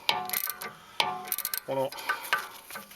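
A hand wrench works a 16mm bolt under a BMW Z4 E85 during an oil pan gasket job, producing close, irregular ratcheting clicks and metallic taps with a brief squeak.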